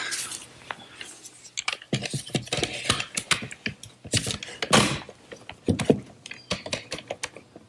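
A bar clamp is snugged up on a wooden flower stand in a workshop, giving a rapid series of close, dry clicks and ratcheting taps in uneven bursts.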